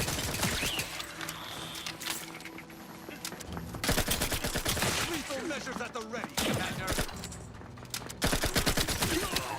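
Rapid automatic turret gunfire from the Outer Worlds 2 video game rattles in dense bursts across the whole stretch, loud and sustained with short gaps and mixed game sound effects.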